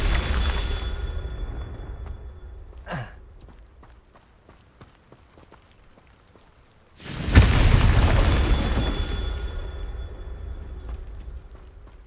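A Confringo spell explosion in the video game Hogwarts Legacy, a sudden loud fiery blast that rings and rumbles, then slowly fades, following a brief earlier crackling whoosh.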